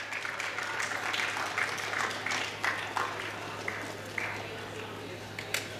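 Applause from the audience at an annual school prize distribution ceremony, a broad steady patter of clapping lasting several seconds with some individual claps standing out, moderately loud and fairly close.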